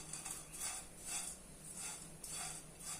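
Poha flakes dry-roast in a pan and are stirred at a steady rhythm. Each faint, close sweep of the spoon rustles and scrapes the flakes, with no voices.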